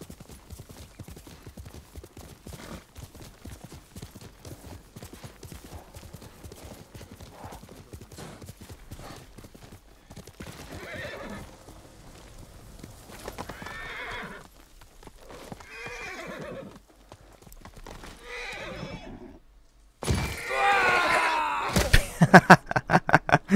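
Ghost of Tsushima gameplay: rapid clip-clopping hooves of a galloping horse with repeated loud neighs and whinnies, growing louder and more intense toward the end.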